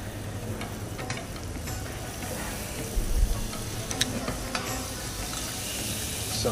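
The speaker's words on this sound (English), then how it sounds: "Next step, we put the butter in. Pan has to be quite hot." Butter sizzling in a very hot pan while cooking steak Diane, a steady crackling fry with a few sharper pops and stirring scrapes, close and moderately loud throughout.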